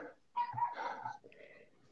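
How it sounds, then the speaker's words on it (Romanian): Small dogs in a home yap and whimper in short bursts, a sharp bark followed by whiny, breathy cries, heard faintly in the background of an online discussion. "Nu știu la cine se aud căței lătrând"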